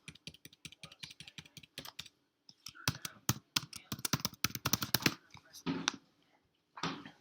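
Computer keyboard typing in a quiet room: a quick run of evenly spaced key presses, then bursts of faster clattering with short pauses, including repeated backspace taps, close and soft.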